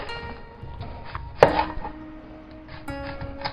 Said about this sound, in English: I'm doing kind of a rough chop right now